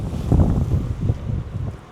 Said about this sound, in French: vous entendez bien le vent. Là ça souffle